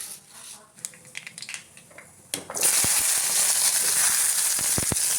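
Shallots, onion, garlic and dried red chillies dropped into hot oil in a heavy, thick-bottomed pan erupt into a loud, steady close-up sizzle that fills the rest of the moment, after a quieter stretch of light kitchen handling sounds.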